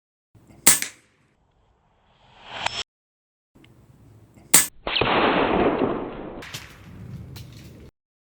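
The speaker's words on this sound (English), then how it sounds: "I am going to take a couple shots real fast to see where I'm hitting" Crosman Legacy 1000 pump air rifle firing two sharp, loud cracks a few seconds apart, each followed by a brief hiss or whoosh, with a longer rushing noise after the second shot; no talking.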